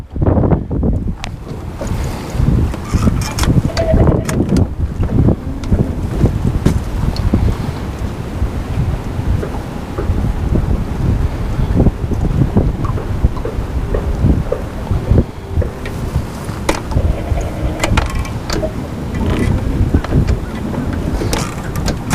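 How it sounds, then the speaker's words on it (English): Strong wind gusts buffet the microphone at a shoreline fishing spot, producing loud, rumbling, irregular blasts that rise and fall throughout, with faint water sounds underneath. "on a day like today where you've got big wind gusts blowing through"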